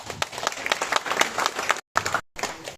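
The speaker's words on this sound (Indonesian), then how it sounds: "Tepuk tangan" An audience gives a short burst of clapping in a room. It is dense and moderately loud, breaks off briefly twice and then resumes.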